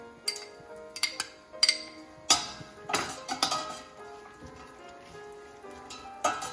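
Nuts sautéing in a pan for carrot halwa give off scattered clinks and scraping knocks of a utensil against the metal, with light sizzle underneath, close and moderately quiet with no talking.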